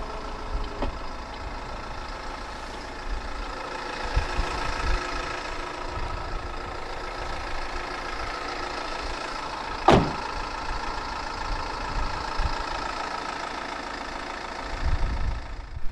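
A 2016 Toyota RAV4 with a 2.0 D-4D diesel engine idles steadily nearby with an even low clatter, and one brief sharp click partway through.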